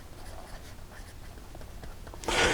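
Leonardo Momento Zero fountain pen with a medium stainless steel nib writing on paper, soft faint scratchy strokes in short bursts, close and quiet, ending in a louder rustle.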